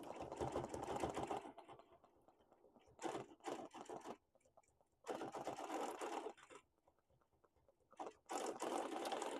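A sewing machine free-motion quilting a wholecloth runs in rapid buzzing bursts, several seconds on and then short pauses, stopping and starting close up, with no voices.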